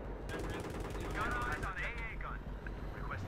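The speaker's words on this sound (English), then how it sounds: "the AA gun came on the other side" Anti-aircraft gun fire in the video game Battlefield 3, heard as a dense, continuous rattle of rapid shots under loud attack-helicopter rotor and engine noise, with people talking over the din.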